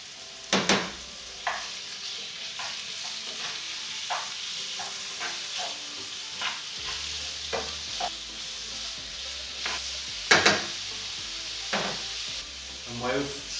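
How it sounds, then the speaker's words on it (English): Chicken pieces frying in a pan with chorizo and its paprika oil, a soft steady sizzle with occasional stirring clatters and utensil knocks, close and moderately quiet. "So I can see and smell that the chorizo started to emit its paprika oil, so in goes the chicken."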